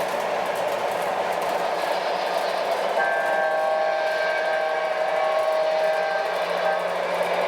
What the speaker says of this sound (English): Now the mainline train's running again